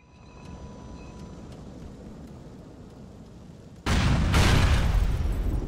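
Pipe bomb in GTA IV, quiet ambient rumble giving way to a sudden loud, broad explosive blast that roars on and slowly fades.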